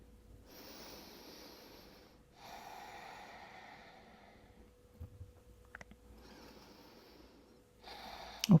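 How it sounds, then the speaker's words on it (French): Slow breathing during a hip stretch, with several audible nasal inhales and exhales alternating with short pauses, close and fairly quiet, and a sharper breath at the end. "Inspirez, expirez ici."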